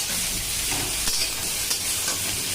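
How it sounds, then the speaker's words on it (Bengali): Eggplant fries in oil in a pan for an eggplant and fish curry, an even, close sizzle and crackle with a couple of soft scrapes as it is turned. "এখানে বেগুন ভাজছি।"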